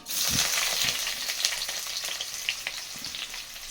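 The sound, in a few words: frying onions with cloves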